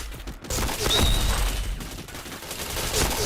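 Rapid gunfire from the first-person shooter game Point Blank, a loud burst of shots with dense low thumps and crackle that continues through the clip with little pause.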